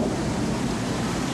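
A thunderstorm gives a dense, steady roar of rain and low rumbling, loud and continuous, with no voices.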